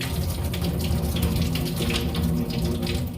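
Mudakkathan greens are rinsed in water, soaked with turmeric and salt, and the water runs and splashes in a steady, close, continuous wash.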